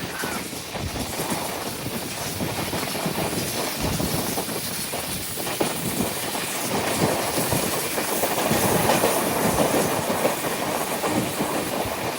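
A Jan Shatabdi Express runs on rails toward Mumbai with a steady rhythmic clickety-clack of wheels over rail joints and a continuous rumble, heard up close from on board with no voices.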